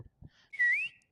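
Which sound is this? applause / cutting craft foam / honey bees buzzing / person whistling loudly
person whistling loudly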